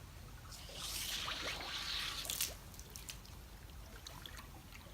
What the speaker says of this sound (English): We take our hose and drive water through the riser to help drive it down into the media